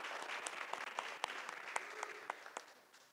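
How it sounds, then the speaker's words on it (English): Audience applause at a vendor panel event in North Dallas, a fairly faint, thin patter of clapping with distinct individual claps standing out, continuing steadily throughout. "Everybody, a round of applause"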